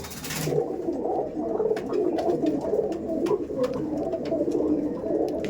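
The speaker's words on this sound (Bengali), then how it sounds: "পায়রা কিন্তু ডিম দিয়েছে পায়রা দেখো পায়রা পায়রা তো অনেক দেখেছো" Pigeons kept for sale coo continuously in a loft, a soft layered murmur of several birds close by, with light rustling and a brief hiss at the start.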